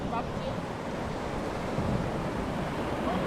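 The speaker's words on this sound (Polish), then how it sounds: "O, tutaj jakiś strumyczek płynie sobie." A small stream flows outdoors in Cyprus as a steady, even rushing wash that fills the whole stretch, mixed with some wind noise.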